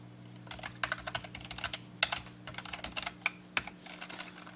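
Password being typed on a computer keyboard, quick irregular clusters of close, crisp key clicks with brief pauses between bursts, over a faint steady hum and no talking.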